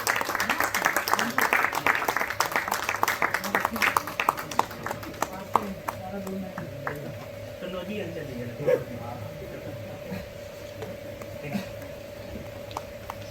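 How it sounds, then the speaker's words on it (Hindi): Lecture audience at a Buddha Jayanti academic event breaks into applause, a burst of clapping that thins out into scattered claps, with talking and a faint steady hum underneath. "कृपया जोरदार तालियां बजाइए।"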